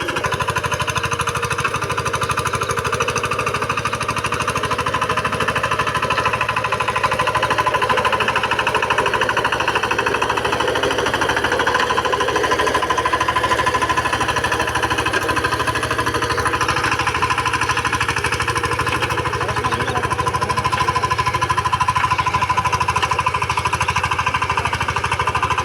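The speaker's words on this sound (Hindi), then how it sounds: "तो अपना ट्रैक्टर एक बार फिर से चल चुका है" A VST Shakti 130 DI power tiller engine runs continuously while puddling a paddy field, a loud, steady, rapid diesel clatter close by throughout, with no voices.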